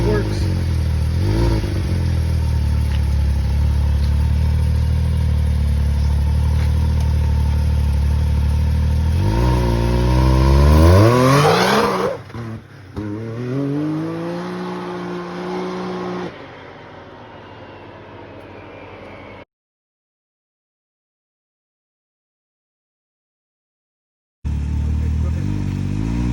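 Can-Am X3 side-by-side engine running on nitrous, loud and close, idling and then revving hard in a rising surge before dropping back and cutting out into silence, then starting again.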